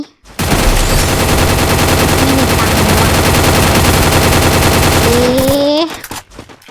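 Loud, nonstop machine gun fire rattles for about five seconds in the Free Fire video game, dense and close, ending in a short rising whir before cutting off.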